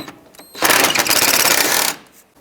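An impact or power tool whirs loudly for about a second and a half while a bolt is removed from the radiator area of a 2003-09 Toyota 4Runner, the burst rising and cutting off abruptly.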